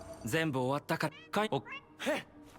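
Cat meows in a video game, several short harmonic calls in a row, close and clear, mixed with bursts of speech-like voicing.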